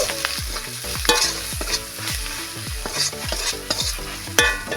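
Chilli and turmeric powder fry in a pan with a bright sizzle. Quick, rhythmic stirring strokes and scrapes sound close and loud throughout, and no one speaks.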